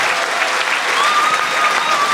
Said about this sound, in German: hat sich mal einen kräftigen Applaus verdient